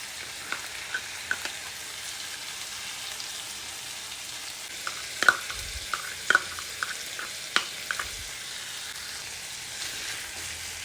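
Garlic, onion and chili paste fry quietly in a pan for a bottle gourd and egg pulusu, a faint steady sizzle punctuated by sparse clicks and scrapes of a stirring spoon, with no one talking.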